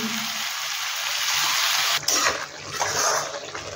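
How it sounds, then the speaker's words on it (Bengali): Water poured into a hot pan of frying cluster beans, a loud dense hiss that surges and then settles into bubbling sizzle, close up with no talk. "এটা ভাজা হয়ে গেছে, একটু জল দেবো, জল দিয়ে নিই"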